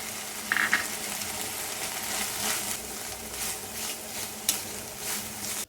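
Spices, coriander leaves and grated coconut fry in a pan for mutton chops, a steady close sizzle broken by occasional scraping stirs.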